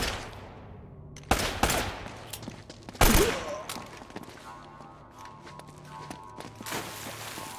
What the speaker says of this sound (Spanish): ¡Disparen a matar!